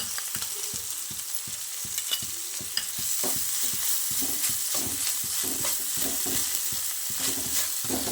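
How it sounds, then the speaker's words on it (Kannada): Ginger garlic paste fries in a pan with capsicum for a spicy chicken dry, a steady close sizzle broken by repeated scraping and stirring taps of a spoon. "ಫ್ರೈ ಆಗಿದೆ ಶುಂಠಿ ಬೆಳ್ಳುಳ್ಳಿ ಪೇಸ್ಟು"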